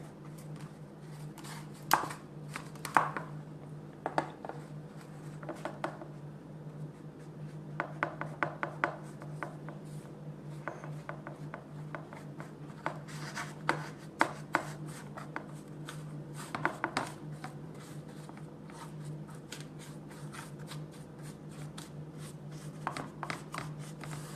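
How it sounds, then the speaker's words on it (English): Brown sugar and butter are spread across the bottom of a cake pan for a pineapple upside-down cake, heard as quiet repeated scraping and tapping strokes of a utensil against the pan under a steady low hum. "I am going to spread it all over the pan until I get a even consistency"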